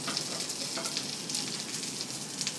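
Oil sizzles on a hot pan under a cooking uttapam, a steady crackling hiss with small pops, close and fairly quiet, with no talking.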